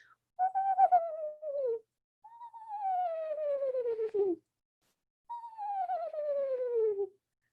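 A person whistles three descending, wavering hoots in a row, imitating an eastern screech owl's trill, each call about a second and a half long with short pauses between.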